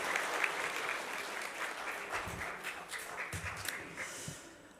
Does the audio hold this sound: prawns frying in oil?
no